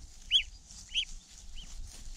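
Four short honking calls from domestic geese, evenly spaced and fairly faint, over a quiet background.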